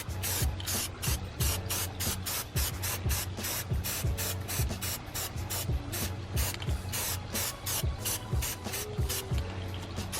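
Aerosol spray paint is applied to Mercedes-Benz fog light grills in repeated short bursts, a loud close hiss pulsing on and off about twice a second alongside faint rattling clicks, with no talking.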